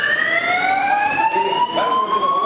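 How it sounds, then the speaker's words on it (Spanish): A loud wailing seismic alert siren sounds continuously, its steady rising tone filling the whole stretch with no talking over it. "Alarma sísmica."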